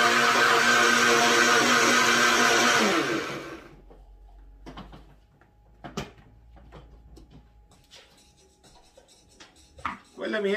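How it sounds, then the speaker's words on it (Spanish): A kitchen blender whirs loudly and steadily for about three seconds while mixing milks and other coquito ingredients, then cuts off, leaving quieter clunks and handling noises. "vamos a mezclar las leches y todo lo que ya echamos a la licuadora"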